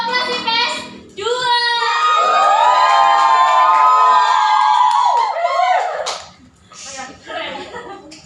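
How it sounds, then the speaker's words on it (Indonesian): A class of high-school students cheers and shouts loudly together for several seconds, a sustained crowd roar with children's voices that fades out, with a teacher speaking around it. "Berikan tepuk tangan dong Lutfi."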